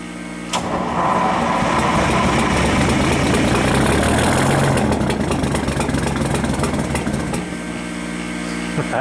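An International truck's Detroit Diesel 671 idles loudly and steadily up close after a cold start without ether, with a constant low, rough rumble and vibration throughout and no talking.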